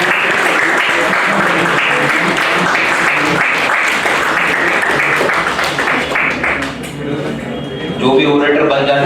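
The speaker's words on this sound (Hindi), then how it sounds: "जोरदार तालियां।" Enthusiastic audience applause at an orator-of-the-month award ceremony, loud continuous clapping that dips briefly near the end and then swells again, with some voices and a few clinking sounds underneath.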